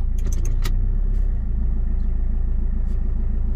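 A Mitsubishi Chariot's turbocharged 4D68T engine idles in drive, a steady low rumble held close throughout, with a few short clicks and jingles near the start.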